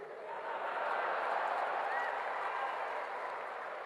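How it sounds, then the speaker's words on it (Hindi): Applause from a political rally audience, a broad continuous wash of clapping that swells and then holds steady, heard from a distance with no distinct voices. "ताली अपने आप ठोकेगी, देखना"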